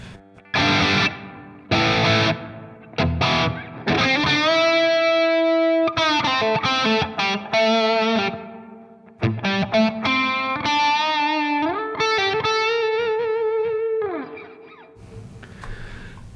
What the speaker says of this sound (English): Okay, that's a lot of reverb.